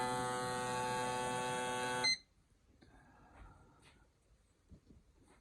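An electronic fuel injector tester pulses Peugeot 207 injectors with a loud, steady buzzing tone that stops abruptly after about two seconds, followed by quiet clicks and handling noise.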